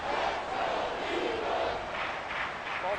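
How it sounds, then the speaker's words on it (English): Stadium crowd noise in an American football video game, with a Falcons at Eagles matchup, forming a continuous roaring wash of many voices that swells and dips slightly, loud and filling the whole stretch. "The crowd's not doing that O-line any favors."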